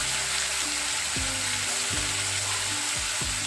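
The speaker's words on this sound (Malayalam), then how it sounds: "ഒരു സ്പൂൺ എടുത്തിട്ട് നല്ലോണം ഇളക്കുക" Salted food in a pan is stirred with a spoon, a dense steady sizzle with a recurring low scraping sweep about every second.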